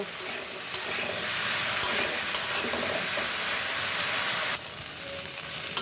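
Okra frying over medium heat in a pan gives a dense, steady sizzle up close, broken by a few sharp stirring clicks, before the hiss drops noticeably near the end.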